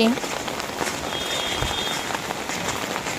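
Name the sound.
heavy rain falling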